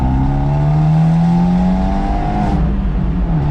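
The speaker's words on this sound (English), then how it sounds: "Okay, Rolo, we're going to give it a little acceleration now" A remapped Abarth 124 Spider accelerates, its engine note rising steadily and loudly from inside the car before easing near the end.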